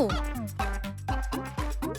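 A person's voice imitates a rooster crowing, giving several quick, close, honking crow-like calls in a row, each sliding down in pitch.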